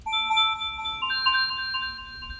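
Bright synth tones shaped with EQ, Valhalla VintageVerb reverb and stereo delay, forming sustained bell-like harmonic notes that shift to a new chord midway, steady and clean with a soft reverberant wash, no voices.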